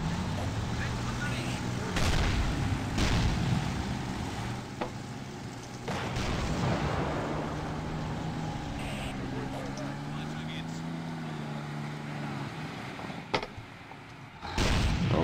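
Artillery shells a trench position in the war game Real War Game: Battle of Kursk, with repeated heavy booms over a steady engine rumble while someone talks throughout.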